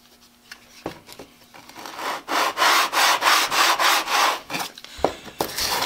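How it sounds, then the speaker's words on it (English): Hard beech wood being sanded by hand with coarse 80 grit sandpaper, a rapid series of loud rasping back-and-forth strokes in steady rhythm, close up and without talk, preceded and followed by a few sharp knocks. "This beech wood is pretty hard, but that 80 grit's doing a good job of taking the material down."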